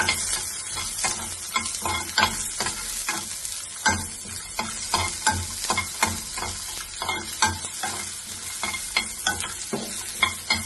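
A utensil stirs ingredients for ivy gourd (kovakka) chutney in a hot pan, giving close, rhythmic scraping strokes over a continuous soft sizzle.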